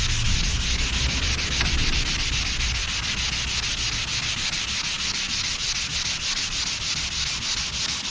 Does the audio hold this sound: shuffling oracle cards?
no